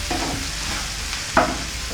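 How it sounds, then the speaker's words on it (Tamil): Onions and tomatoes sauté in a pan for a spicy chutney, giving a close, even sizzle with a single sharp scrape of stirring partway through and no speech. "தக்காளி நல்லா வதங்கட்டும்"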